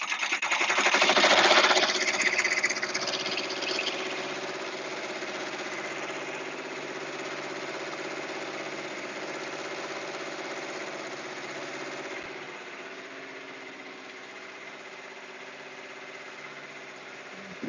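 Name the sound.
embroidery machines stitching shirts and towels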